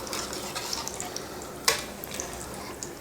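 Potato bonda frying in hot oil, a soft steady bubbling sizzle marked by small clicks and one sharper clink, close by, with no talking.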